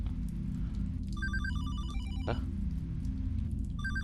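A telephone rings in the horror video game Hollowbody, in short repeated electronic trills over a dense, steady low rumble of ambient game sound.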